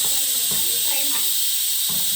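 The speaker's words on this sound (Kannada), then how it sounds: "ನೋಡಿ 3 ವಿಜಿಲ್ ಆಯಿತು" A pressure cooker vents a loud, steady hiss of steam for a mutton dish, a continuous high rushing sound with a voice talking faintly underneath.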